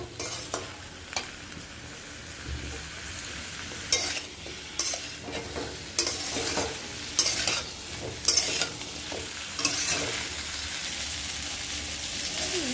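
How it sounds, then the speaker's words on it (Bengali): Green banana pieces sautéing in a pan, with a continuous close sizzle broken by repeated scraping strokes from a spoon, stirred in an uneven rhythm throughout. "এটাকে এখন আমি নেড়ে চেড়ে একটু সময় কলাটাকে কষাই নেব"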